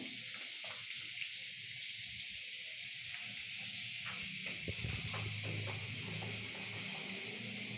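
Butter sizzles in a hot kadai while chire polau is being cooked. It gives a steady, soft hiss with faint clinks and stirring knocks from the pan, low in level and heard alone.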